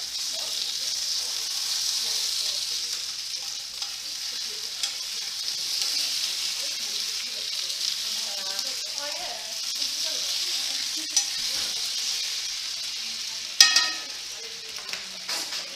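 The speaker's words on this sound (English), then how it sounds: "So, potatoes are still going. Give them a shuffle." Potatoes fry in a pan with a steady, close sizzle throughout, broken by occasional scraping stirs and a sharper clatter near the end as they are shuffled, heard alone with no talking.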